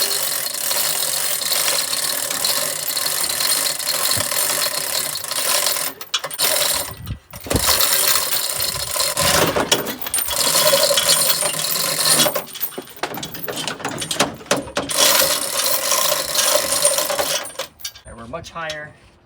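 A ratchet strap is cranked tight to drag an engine forward in a junkyard, giving rapid, loud, close clicking bursts from the pawl with brief pauses between strokes, plus metallic knocks.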